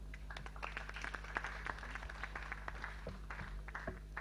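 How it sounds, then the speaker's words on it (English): Faint, distant round of applause from attendees at a Uganda Prison Service SACCO annual general meeting, steady scattered clapping under a low background hum. "Can we give them a round of applause?"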